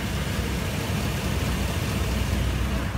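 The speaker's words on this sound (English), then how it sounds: "I'm gonna shoot you in here so you can hear the motor" A 2001 GMC Sierra 1500 lifted pickup engine idling steadily at close range, a smooth, quiet, continuous low rumble with no voices.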